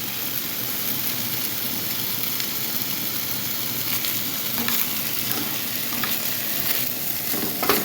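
Steak for a quesadilla sizzling and browning in a pan, a steady close frying hiss with faint crackles and occasional stirring scrapes, continuous throughout, with no voices.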